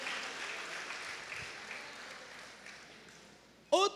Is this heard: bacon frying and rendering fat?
no